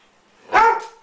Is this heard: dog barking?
yes